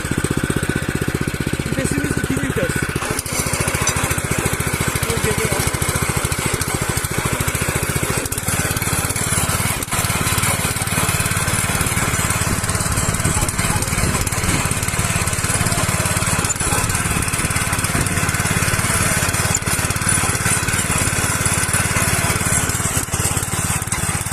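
A Honda GX200 gasoline engine on a rotary tiller runs loudly and continuously throughout, a steady close-up mechanical roar with rattling.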